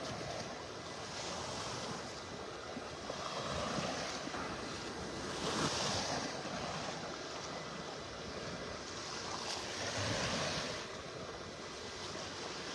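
Gulf surf rolls onto a beach in North Naples, Florida, as the tide comes in: continuous broadband wash with slow swells of louder breaking every few seconds, plus some wind buffeting the microphone.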